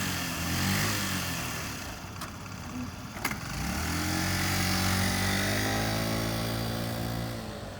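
A used 2017 Honda Metropolitan 50cc automatic scooter carrying a large rider, its small engine buzzing steadily as it passes, rising in pitch and then fading, with a brief clack midway.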